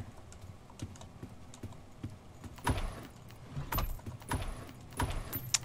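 Typewriter keys clacking in the horror video game Doors, a few sharp separate strikes at moderate distance over a low, murky ambient background, no talking.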